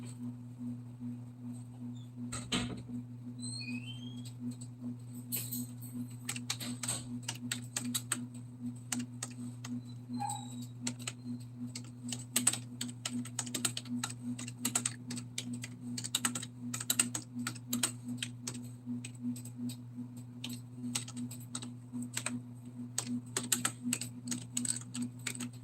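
Steady typing on a computer keyboard at a nearly decade-old PC, rapid irregular key clicks running throughout, fairly quiet, over a constant low electrical hum.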